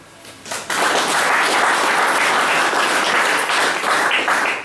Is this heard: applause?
yes